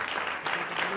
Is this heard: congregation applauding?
yes